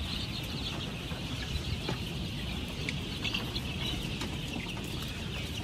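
A brood of young chicks about two weeks old cheeps continuously in a busy, high-pitched chorus, with scattered louder peeps over a steady farm background.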